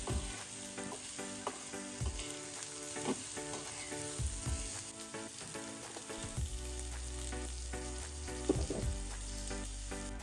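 Onion fries in a pan for a Konkani-style chicken rassa, giving a steady close sizzle with small clinks and stirring knocks and no voices.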